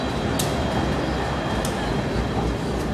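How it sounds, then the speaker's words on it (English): An old train at Journal Square station makes a steady, loud rumble with broad rail noise, and brief bright squeals or clanks break through a few times. "look at this train."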